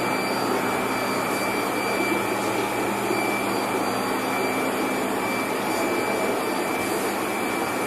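An air blower supplying an aquarium fish room roars in a steady, loud, unbroken rush with a faint high whine riding over it, running alone without any talking.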